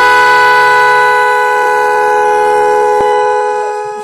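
A magic horn sounds its first tone, a loud sustained multi-note blare that holds steady for about four seconds before tailing off, alone with no talk.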